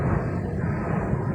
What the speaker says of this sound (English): sorry for the airplanes, but I live in airplane alley.